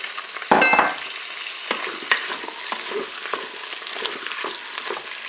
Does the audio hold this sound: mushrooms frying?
yes